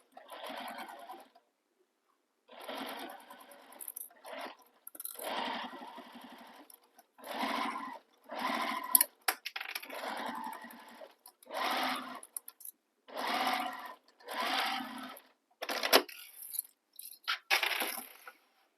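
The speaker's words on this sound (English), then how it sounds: "now I'm going to stitch these two long edges using the seam allowance given in the pattern." A sewing machine with a zipper foot stitches the long edges of a crossbody bag in repeated whirring bursts separated by pauses, close and clear, with no speech.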